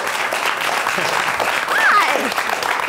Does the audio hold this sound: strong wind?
no